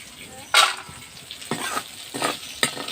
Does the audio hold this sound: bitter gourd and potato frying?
yes